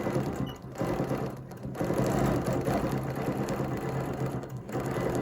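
A sewing machine stitches a quilt with a fast, steady mechanical chatter, loud and close, with brief pauses between runs.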